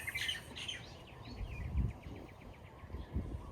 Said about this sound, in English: the birds chirping, the palm fronds swaying in the breeze